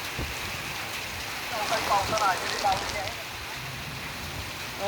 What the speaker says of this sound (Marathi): पुणे शहर आणि उपनगरामध्ये जोरदार पाऊस पडतोय